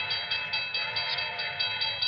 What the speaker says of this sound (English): I stopped a car at a sleepy little junction just across the border into Oklahoma to let a train pass by.